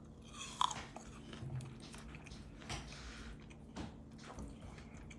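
Bites and chewing of a Crimson Gold apple, a sweet-tart variety with a smooth, fine texture, give a sharp crunch near the start, then several soft, moist chews up close with no talking.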